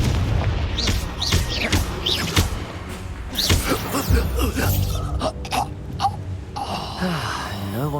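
Confringo explosive spell blasts in Hogwarts Legacy, a string of deep booms and crashes amid combat effects and grunts, loud and close.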